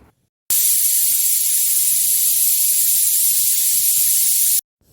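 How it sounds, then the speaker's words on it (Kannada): A pressure cooker cooking mutton sambar releases steam in one loud, steady hiss that starts abruptly, holds for about four seconds and cuts off sharply. "ನಾನಿಲ್ಲಿ ಕುಕ್ಕರ್ ಮುಚ್ಚಳ ಮುಚ್ಚಿ 5 ವಿಷಲ್ ಕೂಗಿಸ್ಕೊತಾ ಇದ್ದೀನಿ"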